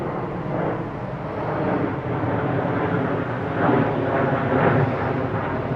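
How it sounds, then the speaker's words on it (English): A steady, broad engine roar of an airplane passing overhead, continuous and fairly loud, swelling slightly toward the end. "I'm sorry about the plane. The planes are back,"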